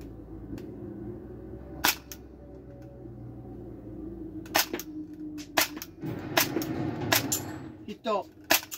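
A custom airsoft gun has its slide pulled back and released, then fires, giving sharp mechanical clacks and snapping shots in an irregular series of close, loud clicks over a quiet background, with someone speaking Japanese between them.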